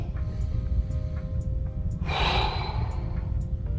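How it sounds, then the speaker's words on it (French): A single deep exhalation during a Pilates breathing exercise in a class: one strong breath out lasting about half a second, over a steady background hum. "Et on expire à fond"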